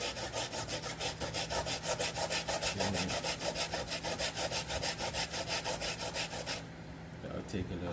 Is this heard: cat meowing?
no